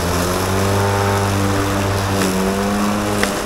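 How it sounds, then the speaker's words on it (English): A Ryobi self-propelled battery-operated lawnmower runs close by with a steady electric motor hum and sustained tonal whine, continuous throughout with no speech. "self-propelled battery-operated lawnmower. This is late Father's Day gift. Isn't that wonderful? Look at that, it's a Ryobi."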